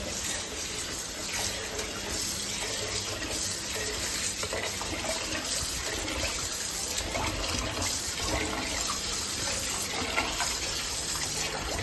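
Jeera samba rice being washed in running water, a steady, full rushing and splashing of water from a tap that continues without pause and is fairly loud throughout.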